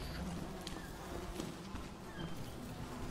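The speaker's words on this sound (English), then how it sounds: "I hear footsteps." Footsteps in a creepy tactical video game mission, faint repeated steps tapping in a loose rhythm over a low, continuous background ambience.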